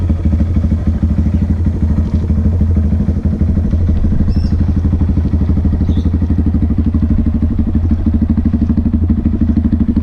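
Modified 2018 Honda Grom motorcycle with aftermarket exhaust idling close by, a steady rapid low-pitched putter with even pulses and slight clatter, no talk.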